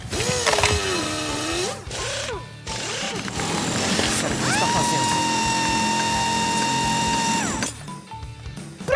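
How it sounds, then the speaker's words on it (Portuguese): A cartoon power drill gives a steady high whirring whine for about three seconds, after brief playful vocal sounds and clatter. "E pra finalizar, furadeira!"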